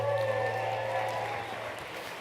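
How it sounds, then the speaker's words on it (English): An audience at a ski film screening applauds the founder of Bub's Naturals, a steady wash of clapping heard at moderate distance under a faint tonal hum, easing slightly toward the end. "Let's give Sean a big round of applause, please."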